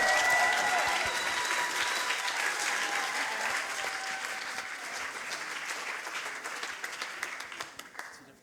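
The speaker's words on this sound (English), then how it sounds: "Big round of applause for Laura Undner" Sustained applause from an audience at a science slam event during Berlin Science Week, loud at first and slowly tapering off over several seconds, with some cheering tones mixed in.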